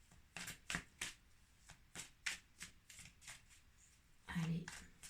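Tarot cards being shuffled for a reading, a series of crisp riffling bursts in a steady rhythm, close and fairly quiet, with one heavier shuffle near the end.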